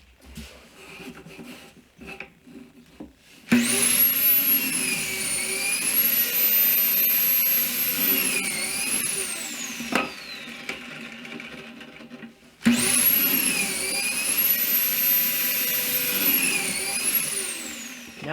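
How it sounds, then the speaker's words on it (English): A power drill runs in two long, loud, sustained whining bursts as it bores pocket holes in wood, with a steady pitch through each burst and a pause between them, in a workshop while a basement bar is being built. "Now I'm going to drill some pocket holes"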